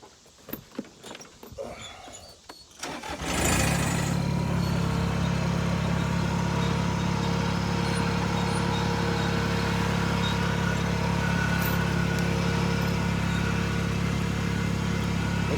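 A Kubota tractor engine starts up after some handling noises and then runs steadily and loudly under load, droning continuously while pulling logs on a winch choker.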